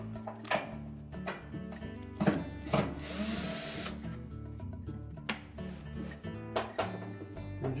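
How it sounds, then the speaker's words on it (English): Screws being backed out of the lower access panel on a Whirlpool washer, with close, irregular mechanical whirs, clicks and clatter from a tool, plus a short burst of harsher noise partway through; no talking. "we need to take these 3 screws out."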